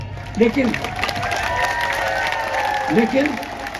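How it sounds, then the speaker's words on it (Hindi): A crowd claps in a rolling burst of applause at an RLP public rally in Chohtan, continuing beneath a man's amplified speech that stays loud throughout. "आप ताली बजा रहा हो"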